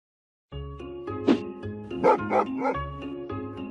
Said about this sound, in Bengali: কুকুরটা কি ভালো আমি যতবারই বল ছুঁড়ে মারছি ততবারই ও আমার জন্য বলটা নিয়ে ফেরত আসছি